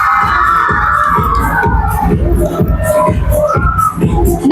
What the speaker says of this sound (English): So I would like the parents to give a big round of applause for them.